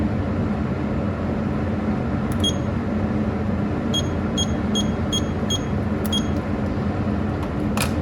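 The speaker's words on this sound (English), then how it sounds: "I'm just gonna set a timer." Short electronic beeps from a kitchen timer being set while canning jam, a few isolated chirps then a quick cluster of evenly spaced bleeps, fairly faint over a steady broadband background hiss, no talking.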